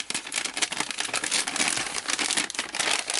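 Close, steady crinkling and crumpling of a plastic bag as an MRE flameless heater pad is slipped back inside and the bag folded over, a continuous papery rustle with no talk.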